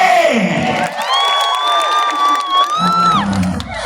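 Loud crowd cheering and shrill whooping close by, with high drawn-out screams rising over the noise and scattered clapping.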